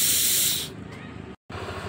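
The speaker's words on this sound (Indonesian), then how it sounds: "Dengan cara kita tutup lubang rotak ini sambil kita semprot di lubang ini teman-teman." A spray can hisses into an engine opening during a compression check on a Honda Beat scooter with a blinking check-engine light. A loud, steady blast is followed by a softer hiss that cuts out briefly and resumes.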